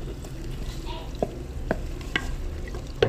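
Spices and ginger sauté in a pan with a soft steady sizzle, punctuated by several sharp clicks of a spatula scraping and stirring at irregular intervals.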